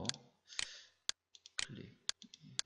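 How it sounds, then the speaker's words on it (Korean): Sharp, distinct computer mouse clicks, about seven or eight in an uneven rhythm, close and quiet in an otherwise still room with soft low rustling between them. "클릭"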